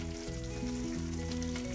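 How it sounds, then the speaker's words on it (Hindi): Steady sizzling of chickpeas being stirred into a frying spice masala in a pan, continuous and close, with a low hum in the background. "चनों को हम मसाले के अंदर अच्छी तरह से मिक्स कर लेंगे"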